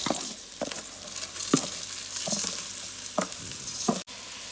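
Rice fries in a pan with oil for vegetable biryani as it is stirred, a steady close sizzle punctuated by several sharp scraping strokes of a utensil at irregular intervals, with no talking.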